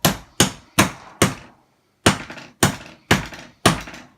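A hammer strikes eight times during a window replacement, sharp solid knocks in an even rhythm with a brief pause midway, close and distinct.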